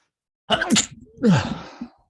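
A single person sneezes twice in quick succession, close and fairly loud, each a sharp burst with a breathy trail, in a quiet room.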